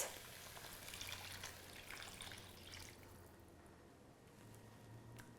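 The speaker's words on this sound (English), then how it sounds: "we're gonna stir in that low sodium chicken broth. So the recipe calls for 6 cups. So I poured out 2 cups." Low sodium chicken broth pours into a soup pot, a soft steady liquid splash and trickle that fades partway through, with faint kitchen background and no talking.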